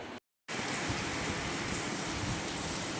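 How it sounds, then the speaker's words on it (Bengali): Steady rain pours down over a Bangladeshi town on a dark, heavily clouded day, giving a dense, even hiss that continues without a break after a brief silent gap at the start. "তারপরে তো এই যে বৃষ্টি শুরু হয়ে গিয়েছে বৃষ্টি হচ্ছে"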